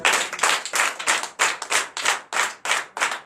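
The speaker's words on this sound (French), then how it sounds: "je vous demande d'applaudir très fort" A congregation at a night deliverance and prophecy church service claps loudly in unison, steady rhythmic bursts of many hands repeating about three times a second, close and without speech.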